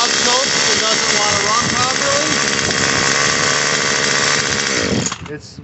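A Murray M2500 string trimmer's small two-stroke engine runs loud and close, revving raggedly and bogging as throttle is applied, then drops off sharply near the end.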